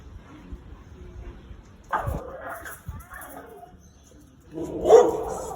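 A leashed dog barks during a walk, a few sharp nearby barks standing out loudly over low outdoor ambience and faint voices.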